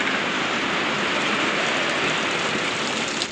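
Steady, dense hiss of heavy rainstorm falling close by outdoors, a continuous wash of noise with no pauses and no voices.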